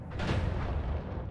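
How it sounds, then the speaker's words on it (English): Loud, continuous rumbling explosions from the roguelike video game Noita roll on without pause, with a brief brighter burst near the end and no talk. "goodness, the random explosions."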